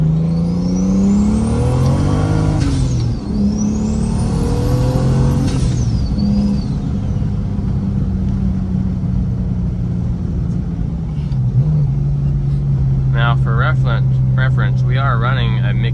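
A big single-turbo manual BMW 335i with anti-lag pulls hard in second gear, loud and close, its engine note rising in long sweeps before dropping into a steady drone, with crackling pops near the end.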